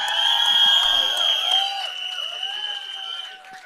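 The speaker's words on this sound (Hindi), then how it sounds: "जोरदार तालियां उनके लिए।" A crowd claps and cheers for Paresh Rawal at the Bhooth Bangla trailer launch, with loud whoops at first that ease off gradually, all over steady music filling the venue.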